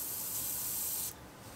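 An airbrush sprays Badger chrome paint onto a 1/24 scale Monogram NASCAR model tire, giving a close, steady hiss that cuts off abruptly after about a second, leaving faint room noise.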